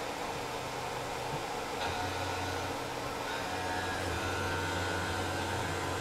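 A Tormach PCNC 1100 CNC mill spinning at 5,140 RPM takes a 15-thousandths finish pass on a critical profile. It gives a steady, continuous machining whine and hum at a moderate level, with no one speaking.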